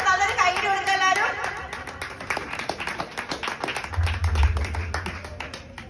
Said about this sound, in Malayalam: സർ നല്ലൊരു കൈയടി കൊടുക്കുക എല്ലാവരും